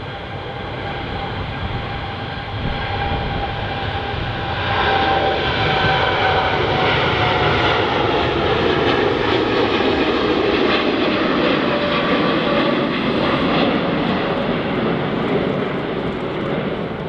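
Etihad jet airliner in a special Formula 1 livery at Manchester Airport, its engines giving a loud, steady roar with a rising whine that swells and holds throughout, no talk.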